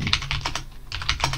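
Keys clatter on a computer keyboard as the cd command is entered in a Linux terminal, a quick run of close, crisp clicks with a short pause midway.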